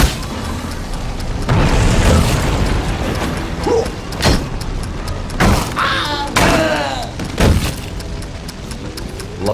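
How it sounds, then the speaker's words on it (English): Bombs going off in the video game We Happy Few, a series of heavy booms and mechanical clanks with sharp bangs spaced a second or two apart, loud and close amid rumbling debris. "Bombs away!"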